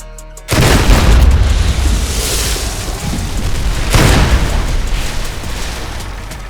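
An explosion in the video game Fallout 3 seals a hole in the ground, opening with a sharp, loud blast and followed by a long, heavy rumble, with a second burst partway through.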